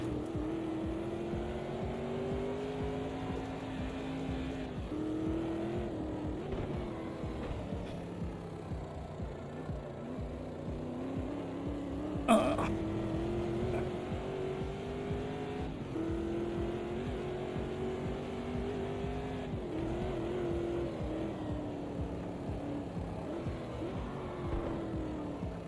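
A race car in the sim game Automobilista 2 drones steadily at speed, its engine note rising and falling gently with small gear changes. A single sharp click or tick cuts through once midway.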